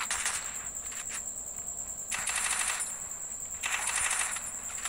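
Rapid automatic gunfire in the Free Fire mobile battle royale game, coming in three bright, crackling bursts over a steady hiss, loud and close with no talking.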